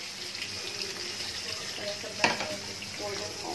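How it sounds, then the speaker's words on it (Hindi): Onions fry in a pan for Indian-style masala pasta, a soft, steady sizzle with faint water-like hiss, a sharp clink near the middle and a low voice murmuring in the background. "जब तक ये ओनियन गोल्डन हो जाए तब तक इसे फ्राई करते रहे।"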